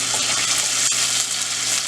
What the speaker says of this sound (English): so see, it started sizzling